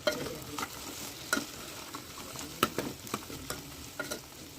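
Okra stirred with salt in a cooking pan for a village-style okra stew: scraping stir strokes come at irregular intervals over a low, steady sizzle, close and moderately loud, with no talking.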